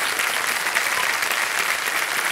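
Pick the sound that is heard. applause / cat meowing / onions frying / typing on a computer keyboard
applause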